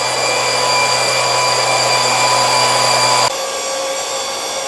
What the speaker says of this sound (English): What you hear in here is our test fixture.